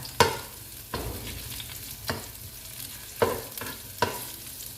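Garlic frying in hot oil in a wok with pork belly ready to follow, a steady close sizzle broken by about five sharp scrapes of a spatula stirring the pan, no voices.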